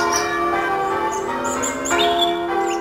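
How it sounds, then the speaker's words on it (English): Church bells ring a new composition for Easter Sunday in a continuous overlapping peal, clear and fairly loud, with fresh strikes layering over lingering tones. "These bells are ringing a new tune"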